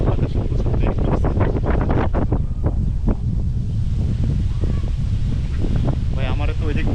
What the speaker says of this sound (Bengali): আর বাতাসে প্রচুর বেগ করছে